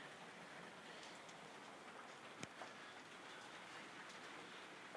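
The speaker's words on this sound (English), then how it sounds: "Hey, look, it's raining" Rain falls steadily outdoors as a soft, even hiss of faint patter with the occasional single drip, no voices present.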